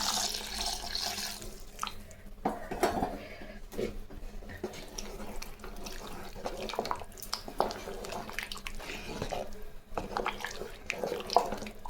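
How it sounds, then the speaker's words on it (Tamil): Water splashes and trickles into a pot while cooking Kumbakonam kadappa, with clinks of cookware, a steady running pour amid kitchen clatter. "திட்டமாக தண்ணி ஊற்றுங்க"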